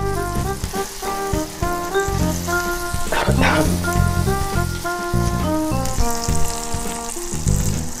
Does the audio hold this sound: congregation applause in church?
no